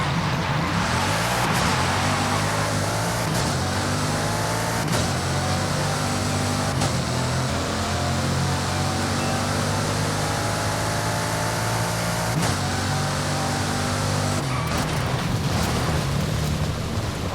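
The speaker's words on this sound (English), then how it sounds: "The Chiron sounds like a pig." A Bugatti Chiron's engine in the racing game Forza Horizon 5 drones steadily with layered low harmonics and rising and falling pitch lines, loud and continuous with a few brief shifts, and no talking.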